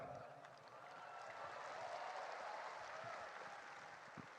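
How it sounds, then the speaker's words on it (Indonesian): An audience at a Gerindra party cadre rally claps in a steady, broad wash of applause, heard from a distance and fairly faint. "Belum selesai udah tepuk tangan."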